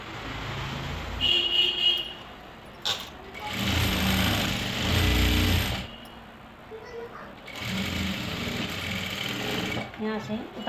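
A sewing machine runs in bursts while stitching lehenga panels made from salwar fabric, joining inner and main fabric pieces, its motor whirring in several stretches of a few seconds each, close and fairly loud, with someone talking between and over the runs.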